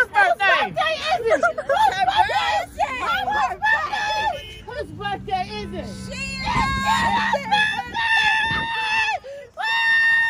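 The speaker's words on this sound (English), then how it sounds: "They're still down there screaming." A crowd at a birthday party screams and shrieks loudly in shrill overlapping bursts, mixed with excited chatter and a short low hum partway through.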